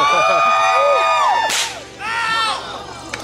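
A small crowd on a pagan road trip cheers and whoops loudly in two bursts, voices rising and falling in pitch with a sharp smack between them, close and lively.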